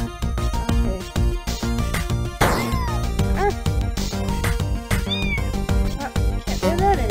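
Several cats meowing and yowling in quick succession over a dense, busy background, with loud overlapping cries and rising wails throughout.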